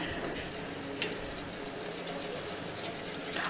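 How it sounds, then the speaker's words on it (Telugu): A spoon stirs a milk and custard powder mixture with sugar for homemade badam milk, giving steady soft scraping and light clinks against the vessel, quiet throughout with no talking. "ఉండలు లేకుండా కలుపుకోవాలి."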